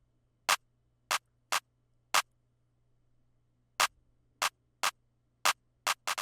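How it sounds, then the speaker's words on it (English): An electronic clap sample made in FL Studio plays a simple, bouncy drum pattern: sharp, dry hits spaced unevenly, alone over a faint low hum with no talk. "First off, we have a pretty simple clap pattern."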